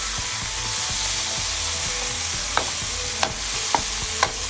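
Sesame beef and vegetables stir-frying in a pan: a steady close sizzle under scraping stirring, with a few sharp clacks of a utensil against the pan toward the end.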